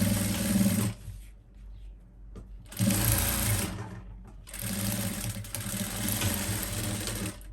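A sewing machine stitches cloth in three loud bursts of steady mechanical whirring, separated by short pauses; no one speaks.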